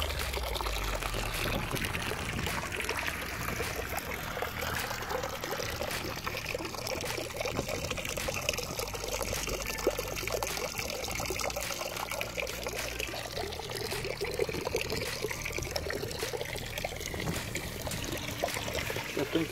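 Water runs again at a small rural farm in Brazil, a continuous splashing, trickling flow heard close and steady throughout without a break.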